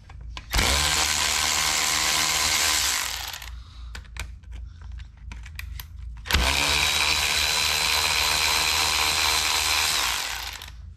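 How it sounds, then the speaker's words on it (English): A power driver spins out the T30 bolts on the oil cooler of a Mini Cooper S R53, in two loud, close, sustained whirring bursts of about three and four seconds, with light clicks and handling noise in the pause between them. "we're also gonna start taking apart the oil cooler. These are T30 bolts."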